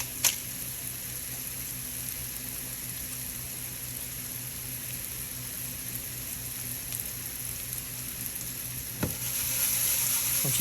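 Shallots seasoned with salt and black pepper sizzle in a pan, a continuous crackling fry with a few louder clicks and spits, steady and close with no talk.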